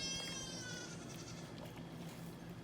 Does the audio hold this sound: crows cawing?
no